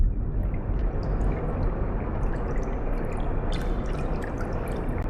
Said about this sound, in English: Some waterfall things.